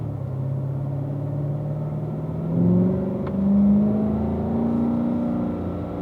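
Car on a racetrack at a driving school, engine droning and pulling up through the gears with rising pitch sweeps, moderately loud inside the cabin under steady road rumble.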